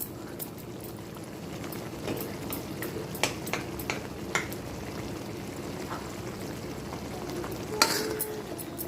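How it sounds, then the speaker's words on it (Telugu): Paneer pieces fry and are stirred in a pan of masala gravy, a soft continuous sizzle broken by scattered clinks and scrapes of a spoon, close and moderately quiet, with no voices. "ఈ రకంగా పన్నీర్ ముక్కలు వేసి బాగా వేయించుకోవాలి."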